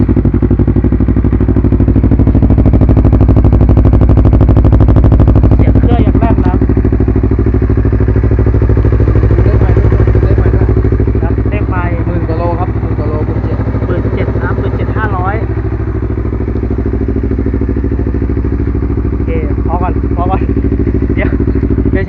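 A 2015 R3 sport motorcycle engine rumbles deep and steady nearby at idle, with someone talking over it throughout.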